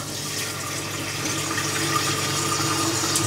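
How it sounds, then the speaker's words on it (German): Water pours steadily into a container, a continuous close rushing flow that builds slightly in loudness over a few seconds, with no talk. "In der Zwischenzeit füllen wir schon mal Wasser auf."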